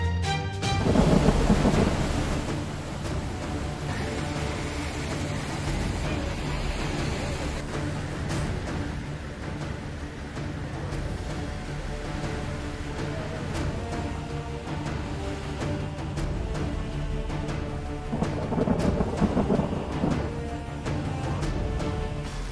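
Heavy monsoon rain pours steadily in Gujarat, India, while thunder rumbles loudly at the start and again near the end, with no voices.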